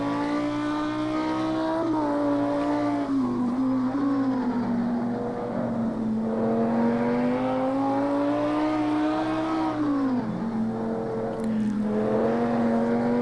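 Race car running flat out through a fast left kink on the Nürburgring Nordschleife, its engine holding a loud, steady, high-revving drone that rises and dips with gear changes and throttle across the whole stretch, with no one speaking.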